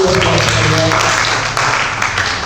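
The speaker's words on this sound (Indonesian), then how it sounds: "Tepuk tangan dulu Bapak Ibu" A church congregation applauding, a steady wash of many hands clapping at moderate loudness, with a voice and some low music audible underneath.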